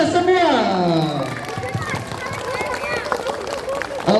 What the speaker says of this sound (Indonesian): Marilah kita sambut dengan tepuk tangan yang meriah untuk kita semua.